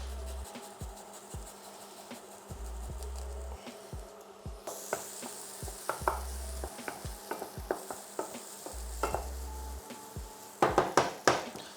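Garlic fries in a pan for a cottage pie, giving a soft, steady sizzle. Intermittent scraping and stirring clatters with a spoon run through it, and the stirring grows sharper and louder toward the end, with no speech.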